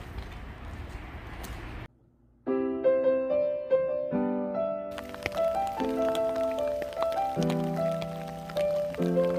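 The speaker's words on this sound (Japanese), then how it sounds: "ということで、また雨です。" Steady rain patters down for about two seconds on a muddy road near the Takiyama Castle ruins, a dense hiss that then gives way to music.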